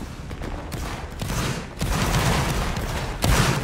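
Musket volley fire in a Roblox Napoleonic Wars battle: dense, loud crackling gunfire that swells around the midpoint and surges again near the end, with shots overlapping in a continuous rolling fusillade.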